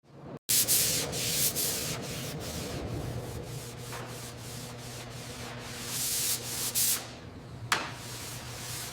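Steady rhythmic rasping of sandpaper block-sanding the body panels of a 1967 Pontiac GTO, strokes repeating for several seconds with brief pauses.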